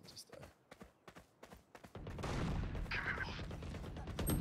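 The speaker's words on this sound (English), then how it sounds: "Oh, they're doing shorties now." Shotgun blasts in the Valorant video game come as a series of sharp cracks early on, followed by denser gunfire and game noise, with players talking over it.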